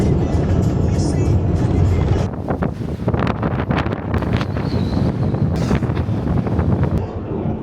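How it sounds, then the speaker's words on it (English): Strong Patagonian wind gusting hard against the microphone in loud, roaring bursts, over the low drone of a moving car on the way to El Chaltén, Argentina. "It is windy. I mean, really windy, like 2 hands on the steering wheel."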